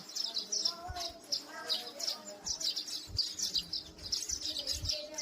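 Baya weaver birds chirp busily while weaving nests, with steady high twittering calls from several birds at middle distance.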